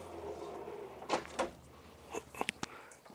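Long soft-close drawers in the kitchen of a 2024 Tiffin Allegro Bus 40IP 40-foot motorhome slide and bump shut in a few quiet thuds and clicks, faint against a low background hum.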